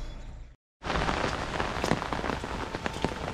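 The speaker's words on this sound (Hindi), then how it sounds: "इतना ज़्यादा बारिश हो रहा है" Heavy rain pours down across a village in Hooghly, a dense, steady hiss close by that cuts out briefly near the start and then resumes at full strength without pause.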